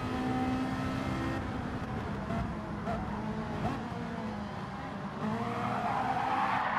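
Race car tyres squeal and spin in Gran Turismo 7 as a driver lights up his dirty tyres after a spin, a sustained screech over roaring engine noise with a brief surge near the end.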